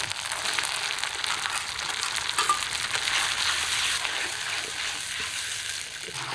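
Ginger-onion paste and tomato paste sauté in hot oil for a boal fish curry. A dense, continuous sizzle runs close and even throughout, with light stirring and no voices.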